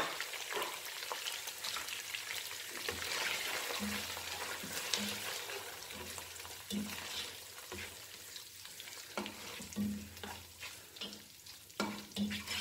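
Boiled chicken, about 250 grams, fries in a pan for chicken macaroni pasta, a steady close sizzle with intermittent scraping stirs and soft clinks throughout, no talking.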